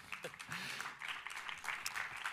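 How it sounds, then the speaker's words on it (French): Applause from someone in the audience at a public talk and debate, a dense crackling patter that holds steady for a couple of seconds at moderate distance with no other sound on top. "Heureusement qu'il y a quelqu'un qui applaudit"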